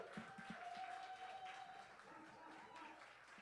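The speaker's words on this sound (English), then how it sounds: "Keep that round of applause going for the Dizzle." An audience at a poetry slam applauds, a sustained wash of clapping with a few sharper claps, mixed with voices and a faint tone.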